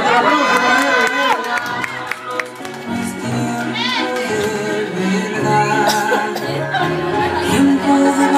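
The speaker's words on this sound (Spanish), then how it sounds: "Fuerte aplauso para él." A crowd at a festive waltz celebration cheers and applauds loudly and continuously over music, with shouts and voices mixed into the din.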